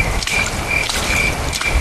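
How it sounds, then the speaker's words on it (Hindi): Crickets chirp steadily at night in the rain, with rain pattering on wet ground filling the background and no voices. "कच्ची ज़मीन पर जमे हुए पानी पर पड़ते हुए पैरों की आवाज़ें, झिंगुर और मेंढकों की आवाज़ों के अलावा आसपास कोई आवाज़।"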